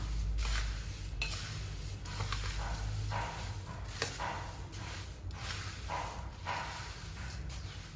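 Puffed rice and salt are tossed together for murmura chivda, giving a steady dry rustling and scraping of the light grains being mixed close by over a low background hum.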